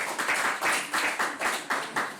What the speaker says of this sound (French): On les applaudit quand même après dans cet exercice.